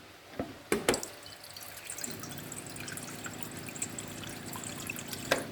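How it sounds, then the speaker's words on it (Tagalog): Broth is poured into a cooking pot, a low steady liquid pour and trickle after a few soft clinks, quiet and close. "Lagyan pa natin ng konting sabaw."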